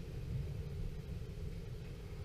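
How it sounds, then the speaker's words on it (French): Deep, continuous rumble of thunder from a moderate multicell thunderstorm over Tour-en-Sologne, a steady low roll heard at a distance without any talk. "je vous laisse admirer cet orage"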